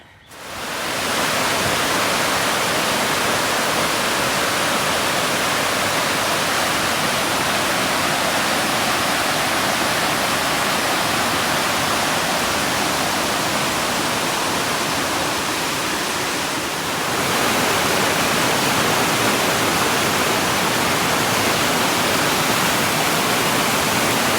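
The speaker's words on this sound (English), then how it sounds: "So we get to see some waterfalls, which I'll put in right here." Waterfalls in downtown Camden, near the harbor, roar as a steady, loud, broadband rush of falling water that carries on without a break, with a slight shift in tone partway through and no voices.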